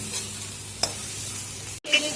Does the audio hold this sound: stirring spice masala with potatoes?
yes